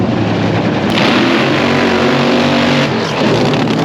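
An NHRA drag race car making a qualifying run at the World Finals: a loud, steady, broadband engine roar that holds for the whole stretch and swells slightly about a second in.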